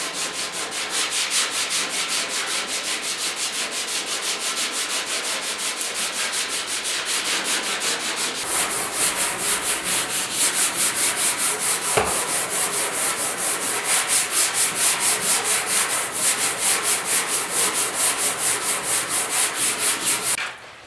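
Primer on the cab bodywork of a 1972 Ford F100 is hand sanded in steady, rapid back-and-forth strokes, a close, even rasping rub that carries on without pause, with no talking.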